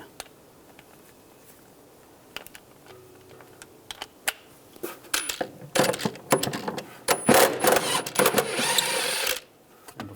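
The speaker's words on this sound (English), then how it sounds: "We're going to take these two bolts out. Use an E4 socket." Bolts being backed out of the rear shock absorber mounts on a 2013-2016 Dodge Dart with an E4 socket: soft clicks, then a dense stretch of loud rapid ratcheting and metallic clatter near the end.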